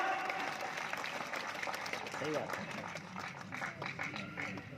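Audience applause fills a Shivratri spiritual gathering in Depalpur, Indore, a dense, continuous patter of many hands clapping at moderate volume that holds steady throughout with no break.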